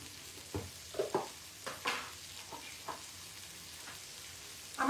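Kasuri methi stirred into a simmering paneer kofta curry, with soft scraping stirs and gentle sizzling in short bursts, close and fairly quiet.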